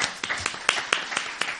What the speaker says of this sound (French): Applaudissements, si on peut l'avoir.